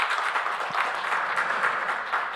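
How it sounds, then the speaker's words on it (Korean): A church congregation applauds together during a Sunday service, a dense, even wash of clapping that fills the room throughout at moderate loudness. "인사할 때 여러분 크게 박수로 환송해 주시기 바랍니다."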